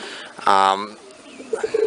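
Pigeons in a loft give a short, resonant coo from close by, followed by softer faint rustles and chirps.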